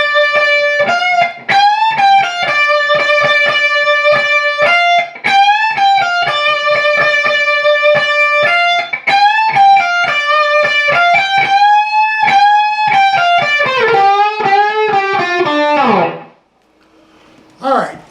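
Distorted electric guitar plays an opening solo lick around the 12th position, with slides, bends and quick triplet runs, loud and continuous before trailing off near the end.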